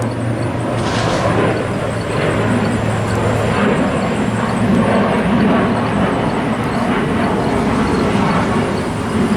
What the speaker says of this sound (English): there's an airplane going over now.